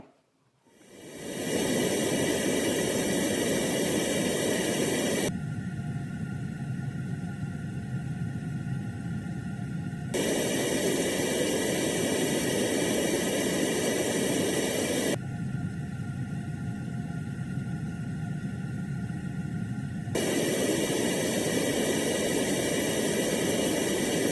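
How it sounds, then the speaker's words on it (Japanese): Road noise recorded inside a new Suzuki Swift, switching every five seconds or so between having the DD sound-deadening mat and not having it. The steady broadband roar and hiss shifts in tone with each change, and no one speaks. "マットありとマットなしの状態を集音マイクで音を収録していますので交互にそちらを再生してみます"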